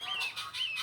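Goslings honking: repeated short, high-pitched honks from young geese, about three calls in quick succession, close and fairly faint, with no talking.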